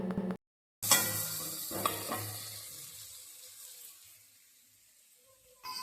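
A pot of fish curry made with small onions bubbles on a stovetop, giving a steady sizzling boil that starts loud after a short gap and gradually fades, with a brief clatter near the end.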